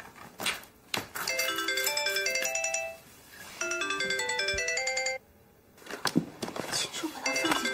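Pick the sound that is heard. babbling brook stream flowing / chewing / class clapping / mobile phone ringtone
mobile phone ringtone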